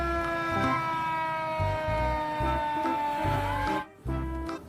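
A toy fire truck sounds a looping electronic siren with a steady, repeating wail over a pulsing beat, close and clear, broken briefly near the end.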